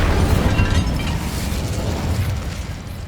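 Incendio, a fire spell in the video game Hogwarts Legacy, goes off as a loud, rumbling burst of flame with a crackling roar that holds for about two seconds, then slowly fades.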